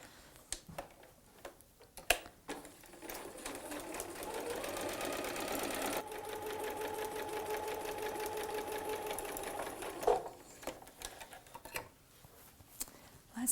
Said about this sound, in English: Let's go ahead and sew our 1/4 inch seam allowance and see how we did on those intersections